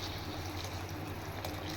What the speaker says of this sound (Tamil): நான் தண்ணி ஊற்றுற பாருங்கள் சுடு தண்ணி பார்த்துக்கணும்